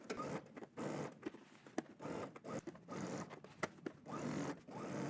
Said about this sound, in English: I'm going to stitch a 1/4 inch away from the seam